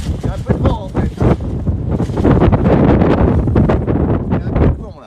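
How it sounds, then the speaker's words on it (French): Wind buffets the microphone near the Champs-Élysées in Paris, a loud continuous rumbling roar that swells and eases, with people talking over it. "Il y a un peu de vent en fait"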